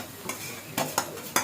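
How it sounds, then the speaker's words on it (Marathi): Cooked lentil puran filling is stirred in a kadhai for puran poli, with a steady sizzle and several distinct scraping strokes of the spoon against the pan, each landing about half a second apart. "पुरण परतण्यासाठी कढई घेतली आहे कारण कढईमध्ये ते पुरण व्यवस्थित परतता येतं."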